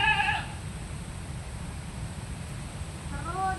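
A goat bleats briefly at the start and again near the end, two short wavering calls over a low, steady background rumble.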